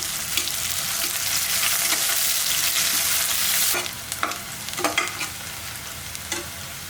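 Sliced onion and a whole green chili hit hot oil for vegetable biryani, a loud, even sizzle at first that thins out, followed by a few close stirring scrapes.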